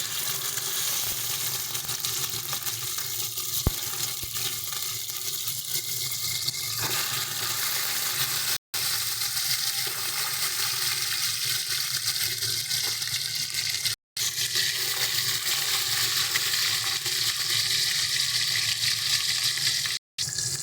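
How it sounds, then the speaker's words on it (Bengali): Salt-rubbed katla fish pieces fry in hot mustard oil in a wok, filling the whole stretch with a dense, even sizzle and bubbling that holds at a constant level, with no talking. "এবার আমরা আগে থেকে নুন মাখিয়ে রাখা মাছগুলোকে ভেজে নেব"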